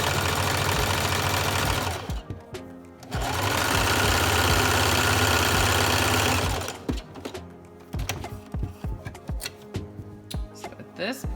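A sewing machine stitches baby newborn pants in loud, steady runs, stopping briefly mid-way, then giving way to uneven clicks and handling noises as the fabric is adjusted.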